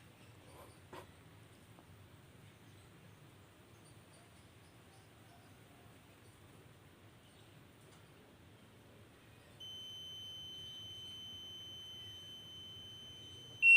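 After quiet low hum, an electronic buzzer in a relay-driven ship bridge watch alarm system sounds a steady high-pitched tone for the last few seconds, fairly faint and continuous.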